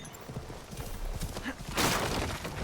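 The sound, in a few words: horse hooves clip-clop in video game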